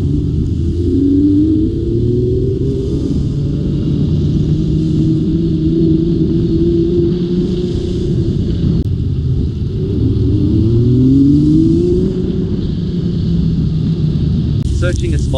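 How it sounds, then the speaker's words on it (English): Road traffic passes in Kirkmichael on the Isle of Man, a steady loud rumble of engines with vehicles sweeping by and rising and falling in pitch, continuous throughout with no clear gaps. "Traffic in Kirkmichael."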